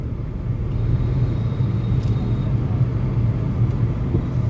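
Steady road traffic on a morning commute to the office: a continuous low rumble of engines and tyres, fairly loud and close, with no distinct passing vehicles standing out.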